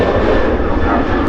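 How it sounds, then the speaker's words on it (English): A Ryanair Boeing 737-800 jet departing Manchester Airport for Malaga, a loud, close, steady engine roar with a broad rushing tone, heard alone. "Ryanair 737-800 there, departing for Malaga."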